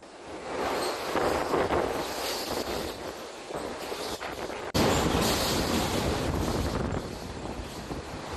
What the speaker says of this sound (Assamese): বতাহ দ্ৰুতগতিত, বতাহে এতিয়া ৰুদ্ৰ ৰূপ লৈছে, বতাহ বলিছে তাওটেৰ ফলত।